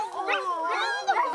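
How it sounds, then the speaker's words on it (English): Seven-week-old puppies yip and whimper in quick, high-pitched bursts, close and fairly loud, over a short stretch without talk. "Look at these little puppies."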